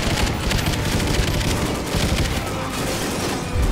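Call of Duty Ghosts combat, with dense, continuous gunfire and booming grenade blasts packed into a loud, unbroken wall of noise throughout.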